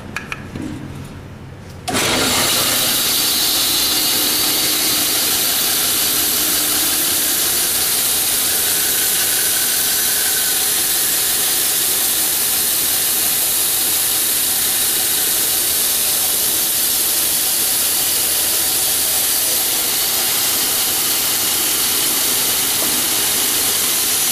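A saw blade cuts through the side of a wooden box, a loud, steady broadband whine and hiss running continuously after a brief quiet start.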